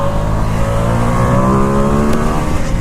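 Ducati XDiavel S motorcycle engine accelerating hard, a loud steady drone with rising harmonic tones close to the listener throughout.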